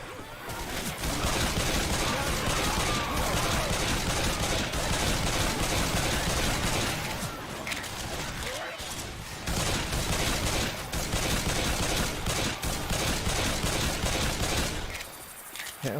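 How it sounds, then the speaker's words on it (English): Dense, nearly continuous gunfire fills a Left 4 Dead 2 zombie-survival match on Expert, with rapid overlapping shots and brief lulls, plus occasional voices underneath. "Can we not shoot each other, please?"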